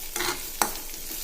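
Masala for vanpayar pulinkari roasts in a pan, a quiet sizzle punctuated by two quick stirring scrapes.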